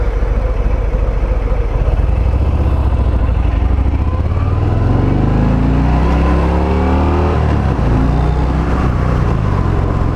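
A 2020 Harley-Davidson Fat Bob 114 motorcycle under way, its engine loud and close, rumbling low and then climbing steadily in pitch as it accelerates through the gears, with wind noise and no talking.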